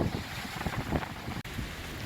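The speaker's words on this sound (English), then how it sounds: "And like 30 knot winds in no time at all." Strong gusts of around 30 knots rising suddenly and blowing dust through a yard, heard as continuous rough buffeting rumble on the microphone, moderately loud, with no speech.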